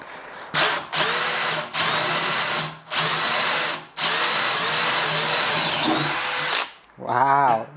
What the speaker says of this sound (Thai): ดีวอลก็ปรับไปที่เกียร์สองหมดเจาะเหมือนกันนะ